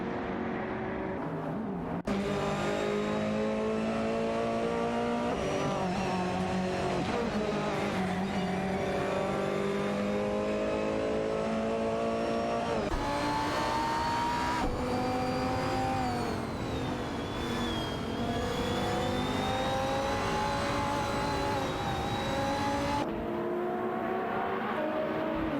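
Racing cars in a video game, an Alpina B6 GT3 and a Renault Sport RS1 DA3, roar continuously with shifting engine pitch as they rev, accelerate and change gear in a close fight for position, loud and steady throughout.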